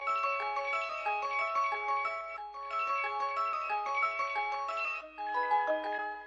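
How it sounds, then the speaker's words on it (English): A bell sample from a sound bank plays a melody of overlapping ringing notes in phrases, bright and sustained, alone without talk. "we get to this bell from the same bank and it sounds like this"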